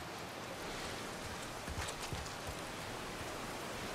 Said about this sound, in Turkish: İyi de yağmur yağıyor.